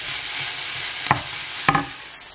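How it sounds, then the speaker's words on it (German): Bacon sizzles in a frying pan in a home kitchen, a constant crackling hiss broken by two short scraping stirs about half a second apart. "So. Speck. Den kann ja auch mit anbraten,"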